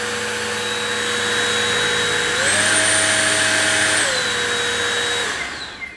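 A cordless vacuum cleaner runs with a steady motor whine, rising in pitch midway as its extra turbo mode kicks in, then dropping back before winding down, close and loud with no talking.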